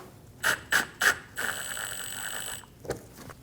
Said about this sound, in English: Install the 2 screws on the bottom of the fender liner.